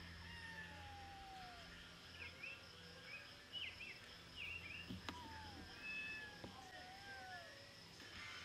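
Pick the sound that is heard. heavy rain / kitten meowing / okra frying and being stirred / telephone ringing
kitten meowing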